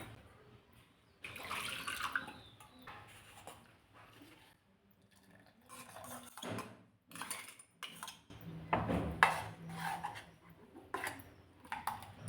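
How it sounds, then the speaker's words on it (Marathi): Leftover water is poured and splashes into a pot of soup amid clinks of a spoon and dishes, with irregular bursts of pouring close by. "आता हे जे उरलेलं पाणी आहे हे यामध्ये घालायचं आहे"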